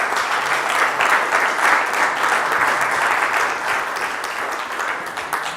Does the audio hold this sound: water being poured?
no